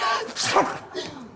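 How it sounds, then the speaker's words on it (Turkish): A single loud, close human sneeze in a Turkish comedy sketch, a sharp burst that trails off, followed by a brief faint vocal sound. "Ya hapşırıyorum burada."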